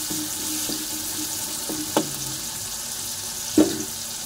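Stuffed brinjals drop into frying masala in a pan, giving a steady low sizzle with a few soft knocks and one sharper clack as the eggplants go in.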